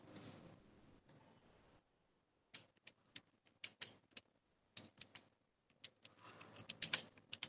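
Keys on a computer keyboard click in short, irregular bursts, sparse at first and then quicker, close and fairly quiet with silent gaps between, no talking.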